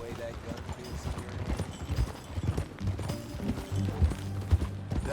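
Horse hooves clip-clop steadily on a trail in the Western video game Red Dead Redemption 2, a moderately loud rhythmic plodding under background music and a game character's voice.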